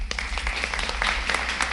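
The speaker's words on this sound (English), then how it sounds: "we again applaud all of you this evening" An audience applauds at a school board of education meeting, a dense, moderately loud patter of many hands clapping steadily throughout, with a low constant hum underneath.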